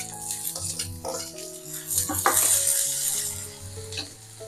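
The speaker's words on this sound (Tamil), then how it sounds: "தக்காளி கொஞ்சம் வதங்கட்டும்." Small onions and tomato sauté in a pan for a Tamil tamarind curry, a soft, steady sizzle close by with occasional scraping stirs of a spoon against the pan.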